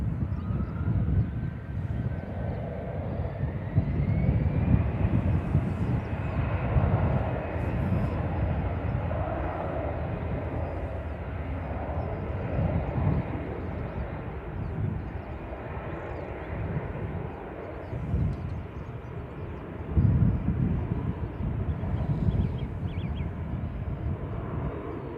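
A classic EasyJet Airbus A320 takes off from Manchester Airport, producing a long, steady low rumble with a rising whine, heard from a distance with wind buffeting and a few louder surges.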